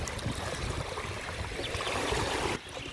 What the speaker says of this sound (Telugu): ఇలా అలలు అయితే వస్తున్నాయి ఫ్రెండ్స్ చూడండి ఇంత బాగా వస్తున్నాయి అలలు